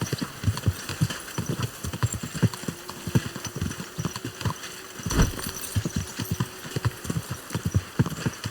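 Hooves of a horse galloping in the medieval role-playing game Kingdom Come: Deliverance II pound in a fast, continuous clip-clop rhythm, close and steady throughout.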